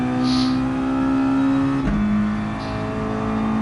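Mazda race car engine in a racing game, a steady strong drone that dips briefly mid-corner out of a hairpin then climbs again as the throttle reopens, loud and close with no talk.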